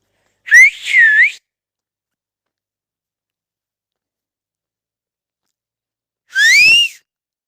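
A person whistles twice, a short rising-falling pair of notes, then a long silence before a second similar whistle, loud and close.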